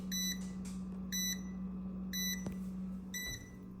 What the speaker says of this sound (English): the cooker will start beeping when all the water evaporates